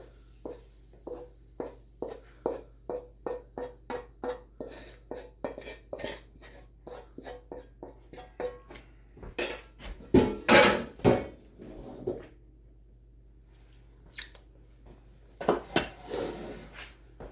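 Dishes and utensils clatter and tap while bacon fried rice is plated, with a quick run of light scrapes and clinks, a louder cluster of knocks midway, then a few sparse taps.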